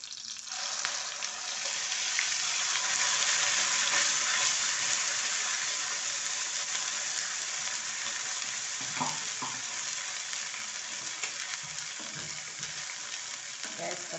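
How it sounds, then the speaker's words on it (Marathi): A ground paste of onion, coconut, coriander seeds, cumin, ginger and garlic frying in hot oil tempering for a spicy Maharashtrian amti, giving a loud, steady broadband sizzle throughout with occasional stirring clinks, no voices. "ही जी पेस्ट बनवली होती, कांदा, खोबरं, धणे, जिरे, आलं, लसूण, ती आपण आता ह्याच्यात टाकायची आहे फोडणीला"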